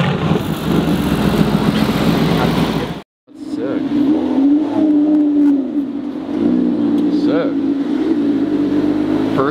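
A supercharged V6 engine, apparently in an exclusive high-end car, revs and drones loudly with a steady pitch that rises and falls, following a brief cut to silence, while people talk over it nearby.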